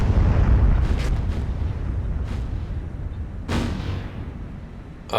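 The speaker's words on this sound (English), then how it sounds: "You can hear how they are firing, really big guns at Nagara, and we were getting some hits." Warship big guns fire in the naval video game War on the Sea, a heavy, rumbling roar that is loudest at the start and then fades. Fainter distant booms follow, with another swell about three and a half seconds in.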